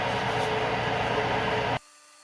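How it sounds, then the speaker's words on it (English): A 5/16 tap drill spinning at about 650 RPM in a machine shop: a steady, dense whir and grind holding close and even, then cutting off abruptly to a faint hum. "I've got my tap drill in here, 5/16, and I've got the RPM slowed down to about 650."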